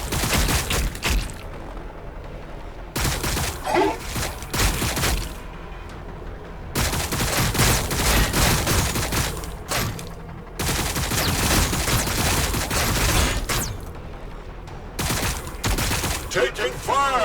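Gunfire rattles through a Warhammer 40,000: Battlesector battle with the Blood Angels, coming as dense, loud volleys of rapid shots and booms in repeated bursts. Brief pauses separate the bursts, and unit voice callouts can be heard among them.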